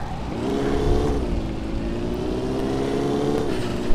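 Car engine while driving in Car Simulator 2, a steady droning hum with gently shifting pitch as the car moves, close and continuous, with no talking.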